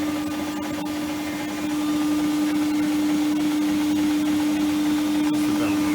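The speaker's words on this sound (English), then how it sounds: "we're beginning to hear a little bit of belt noise" A machine's drive belt turns at 300 RPM, giving a steady loud mechanical whir with a sustained hum throughout and faint periodic ticks.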